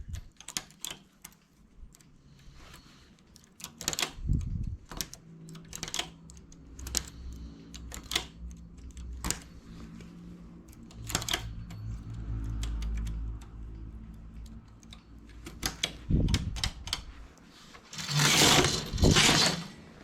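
Hand-operated knitting machine working a pointed edging, with a steady run of clattering carriage clicks and rattles, close and busy, ending in a louder rushing sweep.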